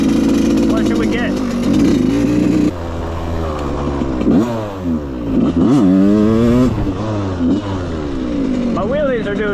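A Suzuki dirt bike engine revs up and down on a trail, its pitch sweeping repeatedly in surging bursts close to the rider, with loud wind buffeting and a person talking over it.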